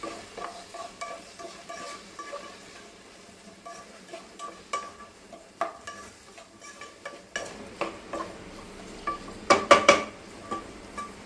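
A spoon scrapes and stirs onion and tomato with salt and turmeric in a pan for egg thokku over a soft background sizzle, with a few louder metallic clinks near the end.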